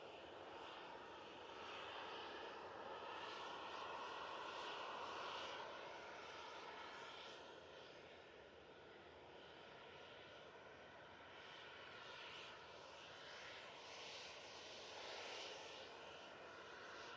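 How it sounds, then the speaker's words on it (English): An Aer Lingus ATR turboprop at an airport gives a faint, steady engine drone and propeller hum that swells slightly midway, then eases, heard from a distance without speech. "There's that Aer Lingus ATR."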